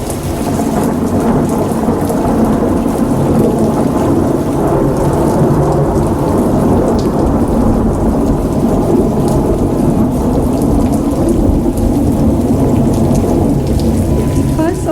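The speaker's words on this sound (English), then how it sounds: "Outside, the clouds rumbled and it was raining heavily." Heavy rain pours steadily at night while thunder rumbles low and continuous beneath it, loud and close throughout with no voices.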